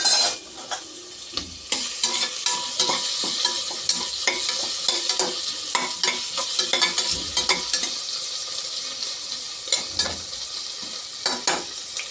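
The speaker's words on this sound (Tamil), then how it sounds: "இப்போ நம்ம அரிஞ்சு வச்ச வெங்காயம், போட்டு நல்லா வதக்கிக்கலாம்" Chopped onions sauté in a pan for a country chicken kuzhambu, giving a continuous sizzle punctuated by frequent sharp clinks and scrapes of a metal spoon against the pan, close and active with no speech.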